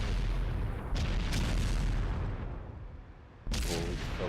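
Tank cannon fire in a video game match, with heavy booming shots over a constant battlefield rumble and a sharp new blast near the end.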